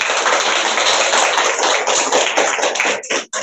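An audience at a business motivation seminar breaks into loud, dense applause that fills the room continuously before thinning to a few last scattered claps at the end.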